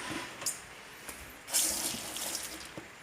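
A small amount of water is poured or splashed for soaking cloth diapers, giving intermittent trickles and splashes with a fuller gush midway, fairly close and moderately quiet.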